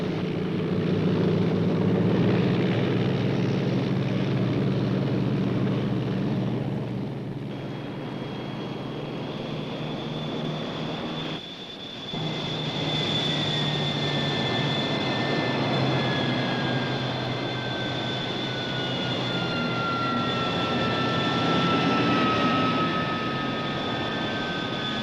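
Military jet aircraft, a flight of four, taxiing and taking off from a runway, a steady loud roar of engines with a rising whine partway through, sustained and close throughout.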